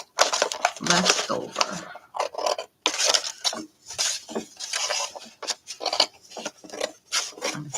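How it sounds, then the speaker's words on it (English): Scissors cut a piece of paper off for a tall skinny journal, giving rough, rasping snips in uneven bursts close by, with a voice speaking briefly between cuts. "Cut this off."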